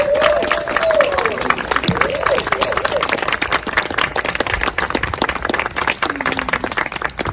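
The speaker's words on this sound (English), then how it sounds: "can we all just give a round of applause for Ms." An audience at an Indigenous Peoples' Day community gathering claps for Carol Copeland Thomas, a dense steady round of applause mixed with some voices and background talk.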